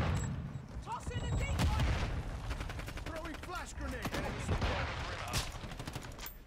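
A decoy grenade in Modern Warfare 2 sets off scattered bursts of fake gunfire, irregular clusters of sharp shots mixed with muffled booms, with voices and game chatter audible alongside.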